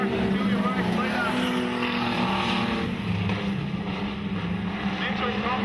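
Modified production race cars, including a Datsun, racing at Maryborough Speedway during a night meeting, their engines a constant loud roar under a commentator's fast-paced talk.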